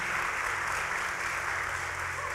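A church congregation applauds during a sermon, a steady, dense wash of clapping from many hands that fills the room evenly from start to finish.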